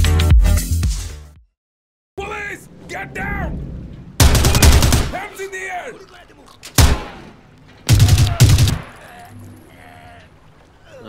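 Bursts of rapid automatic gunfire from a Zero Hour tactical shooter match aboard a besieged ferry, loud and close in several separate volleys with short pauses, under occasional game voices.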